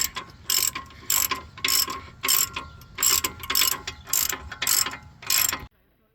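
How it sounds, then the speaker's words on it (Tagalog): A ratchet wrench tightening a front brake rotor fastener on a Nissan Sentra, about nine loud, even bursts of rapid clicking in a steady rhythm, then stopping. "Make sure you torque this down."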